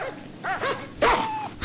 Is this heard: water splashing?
no